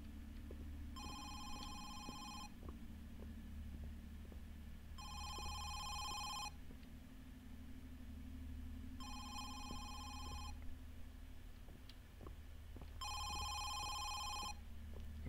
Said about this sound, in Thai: เสียงโทรศัพท์ดังใกล้มากครับอยู่ที่ไหนครับเนี่ย